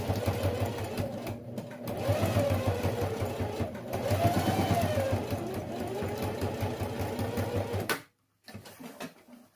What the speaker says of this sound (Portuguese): vamos fazer a costurinha de reforço. Eu coloco 1 centímetro para frente aqui, retrocedo e vou até o outro lado.